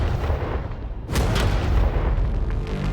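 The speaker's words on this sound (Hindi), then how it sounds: "ये 5 टैंक्स पैसों पर निशाना लगाकर 20 राउंड फायर करने वाले हैं" A tank cannon fires a single loud, close blast at a target of money, the sharp boom followed by a long rumbling roar and debris noise.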